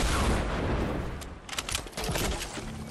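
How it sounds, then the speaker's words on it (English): Gunfire in a shooter video game: a rushing roar of shots and explosions, then a cluster of sharp, close bursts in quick succession, loud and with no talking. "He's trying to shoot me."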